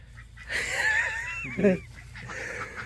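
Ducks call with a drawn-out, wavering cry that rises and falls, followed by a short burst of lower, harsher squawks, all fairly close.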